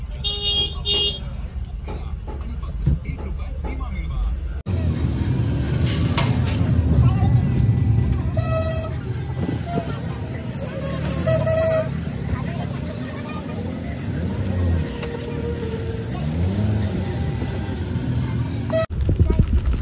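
Busy traffic on a narrow market road rumbles close by, with vehicle engines, horns tooting and a crowd murmuring, while people talk now and then over the din.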